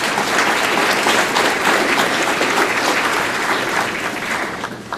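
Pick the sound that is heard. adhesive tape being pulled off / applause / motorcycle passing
applause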